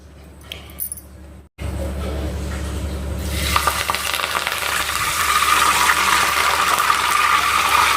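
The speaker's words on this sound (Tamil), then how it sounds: "இப்போ நம்ம கருவேப்பிலையை லைட்டாக நம்ம ஆயிலில் போய்ட்டு ஃப்ரை பண்ணி மேலே போட்டுடலாம்" Curry leaves fry in hot oil for crisp omapodi, a brief pause and then a rising bright crackle and sizzle that grows louder and denser toward the end, close by, with no talking.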